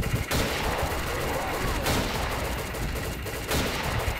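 Gunfire rings out in The Last of Us, played through the RPCS3 emulator, with dense, continuous bursts of shots and a few sharp louder blasts in a loud, unbroken stretch.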